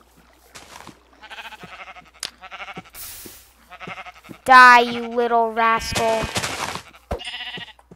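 A Minecraft sheep bleats loudly in a few harmonic cries partway through, close and clear, mixed with game effects and someone talking excitedly over the gameplay.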